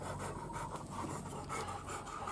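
Dogs panting steadily and close by in a home in Thailand, a continuous breathy rhythm with no talk over it.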